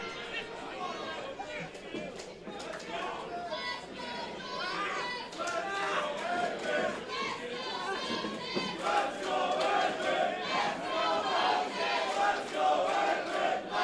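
A wrestling event crowd at WrestleMax STL cheers and chants, split between two wrestlers, a loud, continuous roar of mixed voices and shouts that builds toward the end, with an announcer talking over it.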